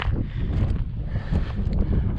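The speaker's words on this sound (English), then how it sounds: "A little windy up here." Wind gusts across a high mountain ridge in the Indian Peaks Wilderness near Caribou Lake, a low rumbling buffeting against the microphone that swells and eases in uneven gusts.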